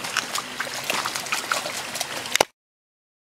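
A stream trickles and gurgles steadily at close range along a cold-weather backpacking trail, with continuous water noise that cuts off abruptly near the end.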